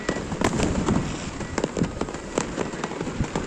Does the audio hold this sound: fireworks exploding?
yes